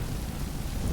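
Crackling lightning spell cast in the modded video game Skyrim, a dense, continuous rumbling roar with a crackly texture, loud and steady throughout with no talk.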